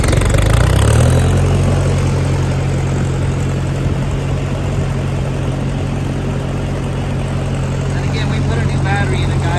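A 1956 Massey Ferguson MH50 tractor engine idles loudly and steadily up close, a low rhythmic chugging drone that holds evenly throughout.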